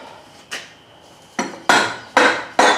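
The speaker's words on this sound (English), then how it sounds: "Rubber hammer." Several sharp, solid knocks from a rubber mallet on a 2001 Dodge Ram 1500 5.9 engine timing cover, sparse at first and then coming in a quicker series of loud blows, with no talking.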